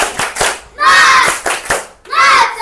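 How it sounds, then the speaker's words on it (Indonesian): A group of students does a spirited 'tepuk semangat' clap in a classroom, sharp patterned hand claps in quick bursts with short pauses, loud and close, mixed with young voices calling out. "Tepuk semangat."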